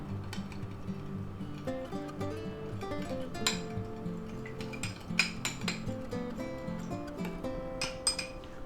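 Sauce with brown sugar gets mixed in a bowl, a run of light clinks, taps and scrapes of utensil against dish, irregular and close, with no talking.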